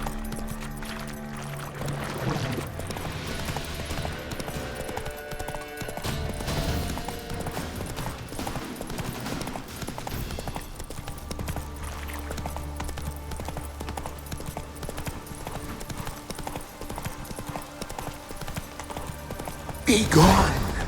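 A horse gallops in The Witcher 3 video game, with rhythmic hoofbeats running through the scene among game music and effects, and voices speaking over it.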